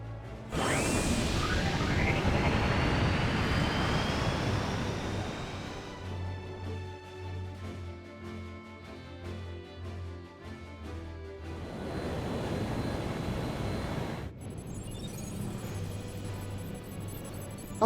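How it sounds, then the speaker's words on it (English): Spacecraft engine igniting and lifting off in Final Fantasy XIV: a rising whooshing roar, then a humming tonal drone with low throb, another surge of roar, and bright electronic tones at the end. "Routing engine output to anti-gravity thrusters. Ignition, and liftoff."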